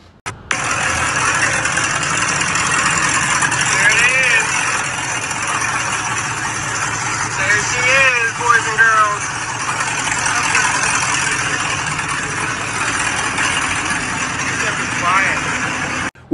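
A 1967 Chevy Malibu restomod with a stock LS3 crate engine idles steadily in the background at a moderate level. Someone talks over the engine for most of the span.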